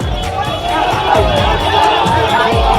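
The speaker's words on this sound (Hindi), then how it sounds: "भीड़ में मौजूद लोग कल्याण बनर्जी के खिलाफ नारेबाजी करते रहे" A dense crowd shouts slogans at a political protest in Bengal, with loud, continuous overlapping voices close by.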